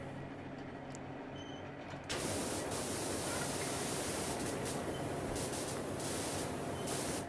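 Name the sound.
pressure washer spraying in video game PowerWash Simulator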